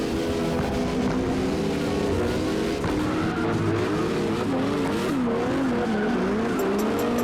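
Car engine in CarX Drift Racing Online, a drift-tuned R32, revs loud and wavering over squealing tires through a continuous drift, with the pitch sweeping up and down as the car slides.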